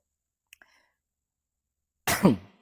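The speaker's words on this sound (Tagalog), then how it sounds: "Sorry, medyo may ubo pa rin ako hanggang ngayon." A single sharp, explosive cough bursts out close by after near silence, with a couple of tiny clicks just before it.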